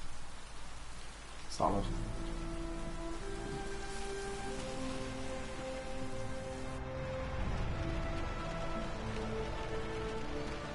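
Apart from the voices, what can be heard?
rain in the video game Heavy Rain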